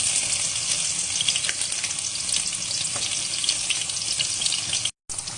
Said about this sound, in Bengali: গরম তেলের ভিতর রসুন কুচি, কিছু কাঁচামরিচ দিয়ে দিলাম